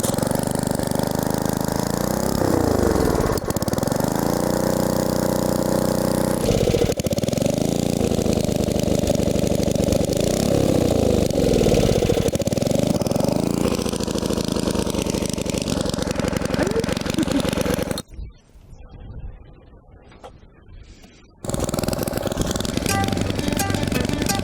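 A small engine runs roughly after a fuel hose repair, its loud uneven drone surging and sagging with revving swells, cutting out near the end before it picks up again.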